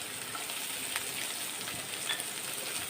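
Chopped onion sautés in a pan with ginger and green chilli as a quiet, continuous sizzle with a few soft crackles and pops, heard alone without any speech.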